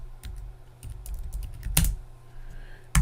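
Computer keyboard keys clicking as a folder name is typed, a quick irregular burst of close keystrokes with a louder clack near the end and no talk.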